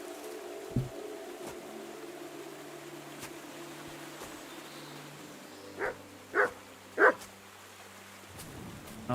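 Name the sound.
dog Mutt barking in video game Kingdom Come: Deliverance II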